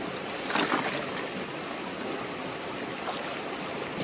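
Water flows from a stream into a gold-prospecting sluice box beneath a bridge, a steady close rushing and splashing gurgle with no talking.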